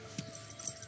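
Car keys jangle in Alan Wake, a brief, light metallic rattle of a few chinks close by within a second.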